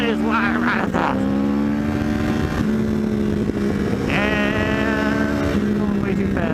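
A 1000cc motorcycle accelerates hard, its engine whine climbing through rising revs with brief drops between gears, loud and close, while a rider talks over it.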